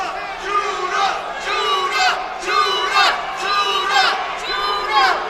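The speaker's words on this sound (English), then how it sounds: "And you hear a chant of Judah, Judah from many in the crowd here at the Turning Stone Casino." Boxing crowd at the Turning Stone Casino chanting a fighter's name, Judah; loud rhythmic chant bursts repeat about once a second, filling the hall with massed voices.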